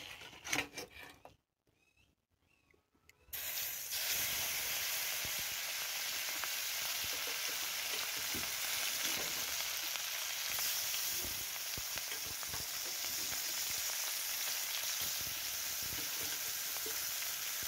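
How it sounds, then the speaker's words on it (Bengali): Mola carplet fish fry in hot oil in a kadai with a loud, continuous crackling sizzle that sets in after a few quiet seconds with faint handling noises and holds steady to the end. "তেলের ওপর সব মৌরলা মাছকে দিয়ে দিয়েছি, ভালো করে ভেজে নেব।"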